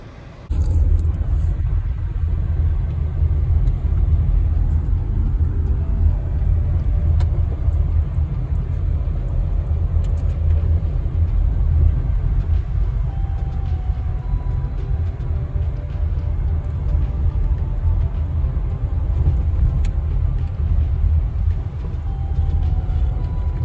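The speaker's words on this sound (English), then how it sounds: "Time for a little bit of off-roading back to the paved" A car off-roading on a dirt road near Sedona rumbles along at a low, steady cruising pace, its engine drone and the rough crunch of the tires continuous and close throughout, with no voices.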